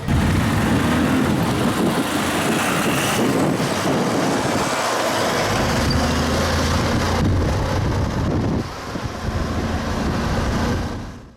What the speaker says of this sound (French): On nous ramène en moto, sans casque, à 200 à l'heure.